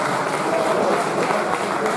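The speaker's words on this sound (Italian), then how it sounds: "Un applauso a Gigi Angeli." Steady applause from a crowd, dense and continuous clapping throughout the short stretch.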